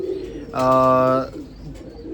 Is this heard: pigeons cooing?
yes